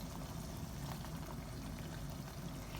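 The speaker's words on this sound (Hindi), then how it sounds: "दही डाल देते हैं।" Yogurt goes into spices and oil frying in a pan for potato biryani, giving a steady, dense sizzle and bubbling that holds at an even loudness throughout, close and continuous.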